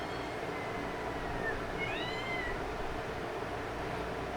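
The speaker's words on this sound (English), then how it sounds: "I don't know why she just started meowing." A cat gives a short, clear meow, a faint high call followed by a slightly louder rising one, over a steady background hum with no talk.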